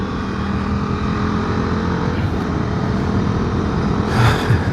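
A KTM Duke 390's 373cc liquid-cooled single-cylinder motorcycle engine gives a loud, steady, close droning roar that swells slightly near the end, with no voices.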